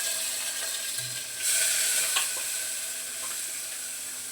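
One large chopped onion frying in a pan for a dry white pea curry, a soft steady sizzle with a brief louder hiss and a few light stirring scrapes, no talking.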